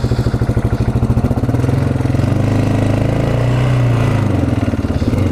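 A small used ATV engine runs steadily nearby with a throttle needing adjustment, putting out a rhythmic low chugging putter that swells slightly in the middle and settles back, with no talking.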